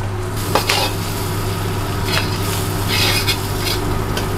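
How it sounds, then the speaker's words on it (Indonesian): Brown palm sugar and shallots cook slowly in a pan over low heat, giving a steady soft sizzle with a few light scraping stirs, close by and without speech. "Gula merah dengan bawang merah ini akan masak berbarengan ya, pelan-pelan, karena ada sampai dia meleleh"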